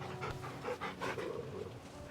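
A dog in Final Fantasy XVI pants in quick, soft, rhythmic breaths, close and fairly quiet, for about two seconds.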